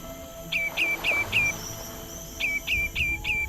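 Migratory birds at Singapore's Sungei Buloh Wetland Reserve call in two clear runs of four sharp, repeated chirps, fairly close, over a soft outdoor hum with faint insects.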